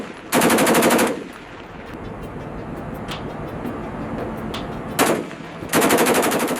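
Machine gun fired by Marines in a gunnery exercise aboard a Navy ship, two loud sustained bursts of rapid automatic fire separated by a quieter stretch of ship noise with scattered single reports.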